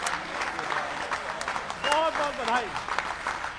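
Audience applause at a kavi sammelan, a Hindi poetry gathering, as a broad wash of clapping that swells and fades beneath someone speaking over it.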